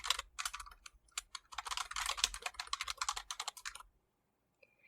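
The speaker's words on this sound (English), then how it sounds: "I'll type print, all lowercase, and then open parentheses, and now open quote, and I'm going to type welcome adventurer" Python code being typed on a computer keyboard, a close, brisk burst of rapid key clicks lasting about four seconds, then silence.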